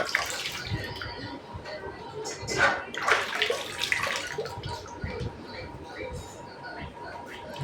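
Septic tank powder is stirred into a container of water, making close sloshing and splashing swirls that swell in the middle, with faint voices murmuring in the background.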